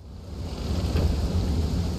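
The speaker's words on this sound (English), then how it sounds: "Oh, it's raining." Rain and thunder in the video game Zelda: Skyward Sword HD, a steady wash of rainfall under a low rumble of thunder that swells toward the middle of a short span.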